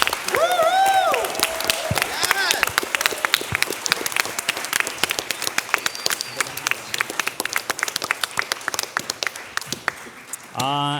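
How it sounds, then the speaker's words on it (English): Audience at a seminar applauds, with dense clapping filling the room throughout and a voice speaking briefly over the start. "So I want to give a really big applause to..."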